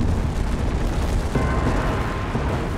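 A deep, rumbling blast stands in for a volcanic eruption on Santorini. The dense low roar and crackle hold steady and loud through the short span.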